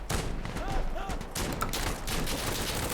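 Bursts of SMG fire from a scoped weapon in the shooter game Insurgency Sandstorm, rapid dense volleys filling the clip without pause, loud and close.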